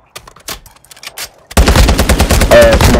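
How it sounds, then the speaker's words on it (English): Video game gunfire in Call of Duty: Resurgence on Ashika Island: scattered shots at first, then a sudden loud stretch of rapid automatic fire and overlapping bursts. "I'm getting shot at."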